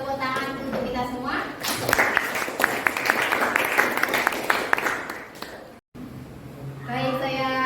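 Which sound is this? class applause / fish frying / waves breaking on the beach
class applause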